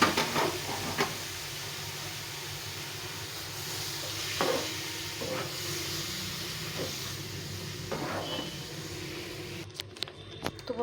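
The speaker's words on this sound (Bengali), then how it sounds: "এখন আমি এখানে পরিমাণ মতো দুধ দিয়ে দেবো, দিয়ে সুজিটাকে ভালো করে সেদ্ধ করে নেব" Semolina, already fried until reddish, simmers in milk in a pan while being stirred, giving a steady close hiss and sizzle broken by a few soft scraping knocks, with no talking.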